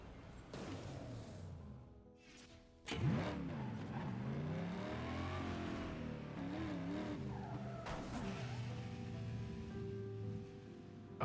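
A car engine in the racing video game Burnout Paradise revs hard and climbs in pitch, dips through a slow gear shift and winds up again, with tire squeal and skidding mixed into the loud, continuous roar.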